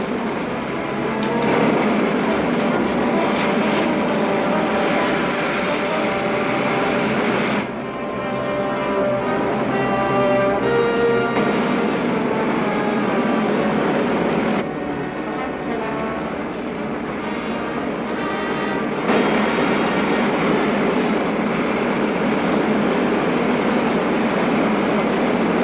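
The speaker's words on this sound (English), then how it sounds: "Fire main jets." Rocket ship main jets firing as a vintage sound effect, a continuous roaring rumble with shifting texture and slight surges, sustained and loud with no talk over it.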